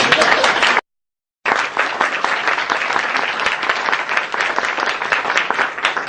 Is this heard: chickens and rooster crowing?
no